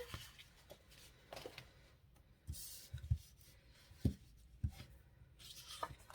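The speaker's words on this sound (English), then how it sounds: "So I'm going to go ahead and move my extra paper out of the way here." Sheets of paper slide and shuffle across a tabletop during a craft project, soft brief rustles and scrapes in a quiet room.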